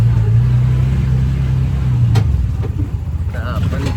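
CNG auto rickshaw engine idles and pulls away, a steady low droning rumble close by and fairly loud throughout.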